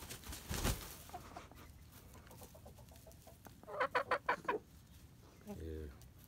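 Gamefowl chickens and roosters in a backyard, with a rapid run of loud clucks near the middle and scattered softer clucks around it, a brief burst of noise at the start and a low voice murmur near the end.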